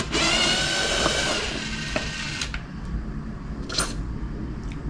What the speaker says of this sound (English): Take out all of these bolts.